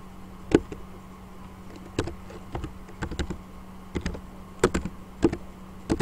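Irregular keystrokes on a computer keyboard, clicking in short clusters and isolated taps at close range, while someone enters database code during a programming lesson, with no talking.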